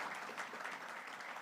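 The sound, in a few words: applause for a children's production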